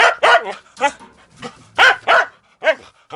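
A dog barks and yips repeatedly up close in a village setting, loud uneven bursts with short whiny tails between them.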